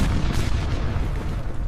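A gas explosion blast in an apartment flat: a loud, dense rumbling boom that fills the whole short stretch at steady high level, with crackling debris texture and no clear onset or fade.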